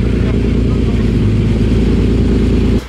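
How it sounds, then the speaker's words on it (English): TVR sports car engines idling and revving as they pull in, a loud, deep, throbbing burble close by that holds steady before dropping off at the very end. "You can't deny a TVR does sound good."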